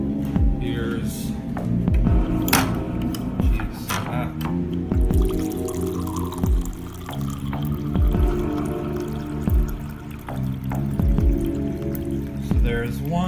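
Water is poured into a crock pot for split pea and ham soup, giving a gurgling, splashing trickle with intermittent drips and glugs under a low hum, close and moderately loud.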